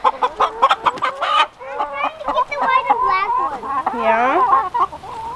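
Chickens on a farm cluck and squawk close by in a busy, overlapping stream of rising and falling calls, with a brief bit of talk mixed in.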